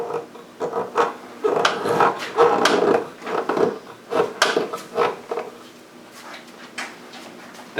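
Mahogany wood under a clamp creaks and rubs in a series of irregular, rasping strains, close by, with quieter gaps between bursts toward the end.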